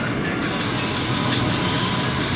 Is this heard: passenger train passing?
yes